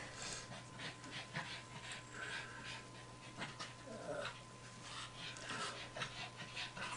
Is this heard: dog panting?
yes